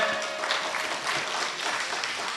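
An audience claps at a Hallikar elders' talent festival, producing a brief, dense burst of crowd applause that stays fairly even throughout.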